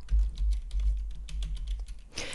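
Fast typing on a computer keyboard while entering a macro name in an Excel exercise, a steady run of close key clicks with a slightly louder burst at the end and no talk.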